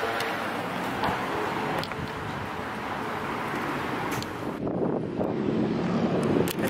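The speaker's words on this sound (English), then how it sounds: "It's a little windy." Steady wind buffeting a microphone outdoors, a continuous loud rumble and hiss throughout with no voices.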